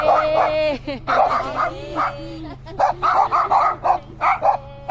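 A dog yips and barks repeatedly in short excited bursts, with whimpering whines between, close by while people talk over it at a campsite.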